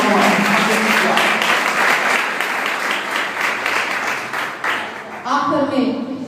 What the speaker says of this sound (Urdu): زوردار تالیاں اس کے پوتر لہو سے.